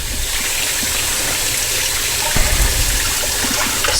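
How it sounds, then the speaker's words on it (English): Tap water runs steadily into a sink while hands are washed and rinsed, a constant close splashing rush with a few brief knocks, no talking. "So I'm going to try to wash my hands with like 30 seconds of rinse time."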